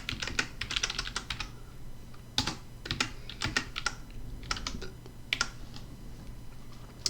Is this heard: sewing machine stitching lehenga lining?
no